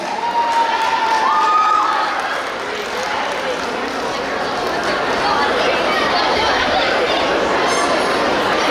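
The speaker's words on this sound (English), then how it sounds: "give her a big round of applause." Crowd applauding an elementary school arts award winner at a community awards event, sustained clapping blended with chatter and cheering, loud and dense throughout.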